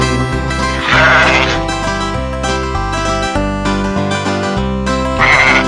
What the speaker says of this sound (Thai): แบะแบะแกะดำ